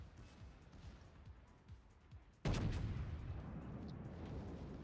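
Warship main guns firing shells in a naval battle game, a single sudden booming salvo midway that leaves a long rumbling tail, preceded by quieter ambient thuds.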